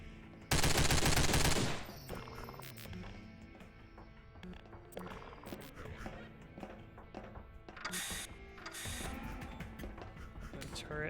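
Turret gunfire in the video game Half-Life 2 (Get A Life mod): a loud rapid burst of automatic fire, then further shorter bursts and mechanical clatter amid game sounds.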